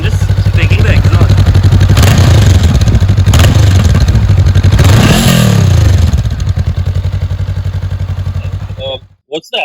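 A Honda CB500X motorcycle idles and revs, its exhaust note rumbling loud and close, with several sharp throttle blips rising and falling before it fades near the end. Someone talks over the engine.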